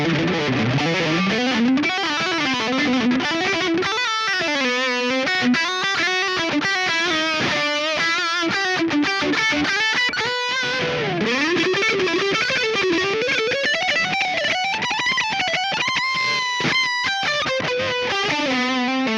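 Distorted electric guitar playing a lead line with reverb and a boosted midrange tone, continuous bending melodic phrases, loud and close with no talking.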